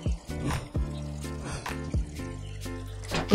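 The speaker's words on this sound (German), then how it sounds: "Und das Ganze dann gießen." Pumpkin seed being watered in the video game Aha World: a light, trickling pour of water with soft drips, steady and close over a faint background.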